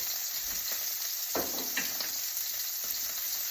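Two steaks fry in a pan with a steady low sizzle, faint and continuous, with a few brief louder crackles and stirring bursts, no talking.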